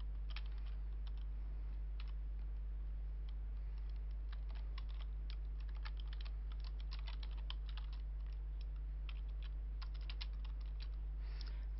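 Someone types on a computer keyboard in bursts of light, quick key clicks at irregular pace over a constant low electrical hum, with no voices.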